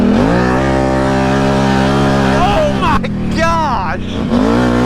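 A giant four-wheeler quad of about 160 horsepower runs loud and close, holding a steady high idle before sharp revs rise and fall near the end.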